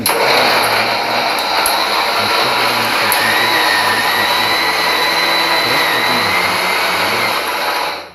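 An electric kitchen mixer grinds fresh corn kernels with a loud, steady, high-pitched motor whine that runs unbroken for about eight seconds before cutting off.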